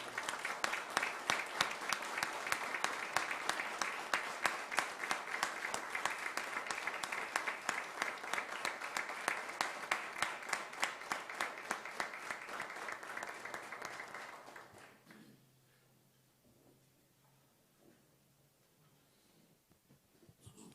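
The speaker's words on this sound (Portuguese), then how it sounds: "Uma salva de palmas para o Zezinho," An audience at a municipal council session claps in a sustained, even round of applause that fills the room, then fades away, leaving near silence with faint stray claps.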